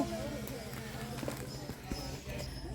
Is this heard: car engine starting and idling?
no